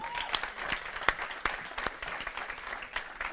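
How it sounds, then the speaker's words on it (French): Scattered, fairly light applause from a church audience, a handful of sharp claps standing out over a steady patter that continues throughout. "Est-ce qu'on peut applaudir ça?"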